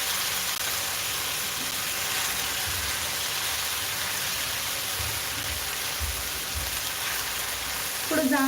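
Jowar-flour thalipeeth batter with onion, coriander and tomato cooks on a hot tawa over low gas, giving a steady soft sizzle and crackle throughout, with a brief louder hiss near the end.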